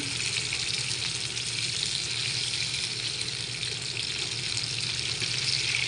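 Hilsa fish pieces fry in oil over a low flame, a close, steady and unbroken sizzle that hisses evenly from start to finish with no speech.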